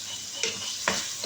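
Pasta stirred in a pan with panko, a short burst of two or three quick scraping strokes over a soft sizzle, close and fairly quiet, no talking.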